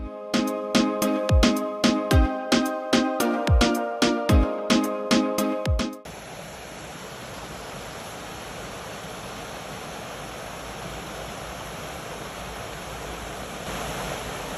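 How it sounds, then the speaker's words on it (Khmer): A waterfall roars in a steady, dense, unbroken rush, coming in after a run of rhythmic, ringing musical notes and then continuing alone without talk. "ដាក់សំឡេងឲ្យបងប្អូនស្ដាប់ទឹកជ្រោះតិច"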